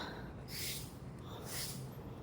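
Someone walking uphill pants heavily, two loud, close breath bursts about a second apart over a steady low background rumble.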